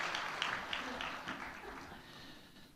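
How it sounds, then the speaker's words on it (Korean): A church congregation claps during a service, a faint scattered round of applause that thins out over a few seconds. "우리 박수로 한번 축하하고 격려하겠습니다"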